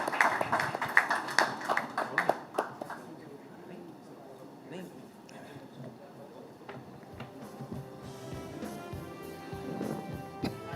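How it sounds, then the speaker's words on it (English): Scattered clapping at a lively awards ceremony opens the moment, sharp and uneven, then dies away, leaving quieter room noise and a voice speaking. "Ladies and gentlemen, a round of applause before the acceptance."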